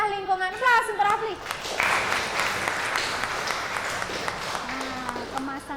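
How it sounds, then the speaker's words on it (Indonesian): A classroom of students applauds a classmate named Rafli, with a burst of clapping that fills most of the clip after a teacher's voice at the start. "Aplaus untuk Rafli"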